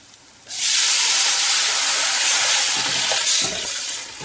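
Water poured into a hot pan of fried onions bursts into a loud, sustained hiss and sizzle of steam that starts abruptly and keeps going steadily for several seconds, with a few faint bubbling pops near the end.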